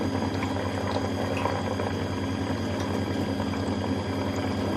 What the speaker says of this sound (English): We're flushing the conditioner in.